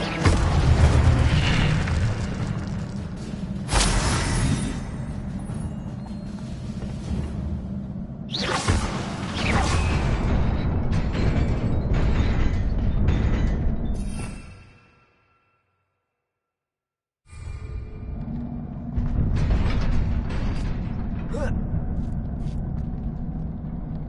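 Fire spell casts in Hogwarts Legacy roar out as loud booming, whooshing bursts with crackling flame, repeating in waves, broken by a couple of seconds of near silence before the blasts return.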